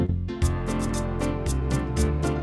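An arranger keyboard plays a full-band accompaniment style, with drums, crisp cymbal hits, bass and chords in a steady groove, heard at moderate loudness with no talking.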